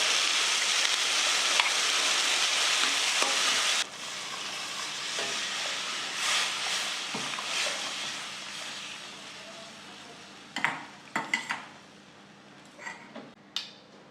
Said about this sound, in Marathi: आता आपण हे दही मसाला हे वाटलेलं हे मिश्रण फोडणीला देऊ